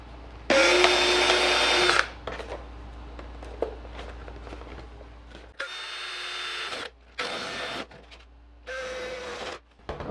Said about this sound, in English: so I'm just going to carefully drill into the side